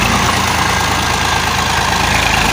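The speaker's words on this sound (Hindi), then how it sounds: "ट्रैक्टर की मदद से इस ज़मीन को हमवार किया जा रहा है, हल चलाए जा रहे हैं इसमें।" A tractor engine drones loud and steady, close by and alone, with a low knocking pulse as it ploughs and levels a muddy rice paddy field in Punjab.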